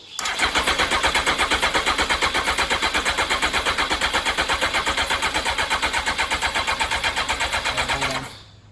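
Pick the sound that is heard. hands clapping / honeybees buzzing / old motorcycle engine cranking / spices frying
old motorcycle engine cranking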